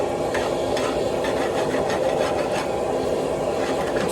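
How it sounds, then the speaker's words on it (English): A rasp files away a cold shut on the corner of a hot canister Damascus steel billet, a continuous close, harsh scraping with faint repeated strokes under a steady workshop hum. "we'll just take the old hot rasp to that problem corner"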